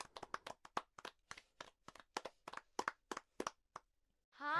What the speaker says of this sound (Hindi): सही कहा। तालियां।